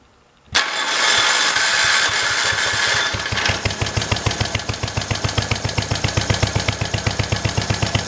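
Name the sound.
1968 Kohler engine running on a 112 tractor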